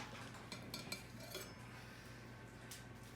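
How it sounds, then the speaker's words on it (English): Seared salmon is lifted from an iron skillet into serving dishes with a few faint clinks and scrapes of utensil on pan over a low steady kitchen hum, quiet and close. "Now I'm going to move this into our serving dishes."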